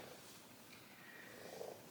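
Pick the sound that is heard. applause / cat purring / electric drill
cat purring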